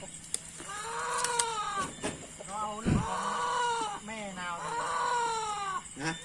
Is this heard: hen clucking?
yes